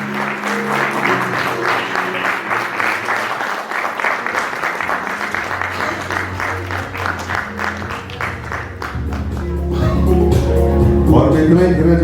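An audience at a music album release event claps in loud, sustained applause that swells louder toward the end, with no talking over it.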